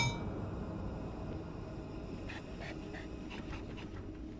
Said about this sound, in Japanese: 犬戻ってきたな。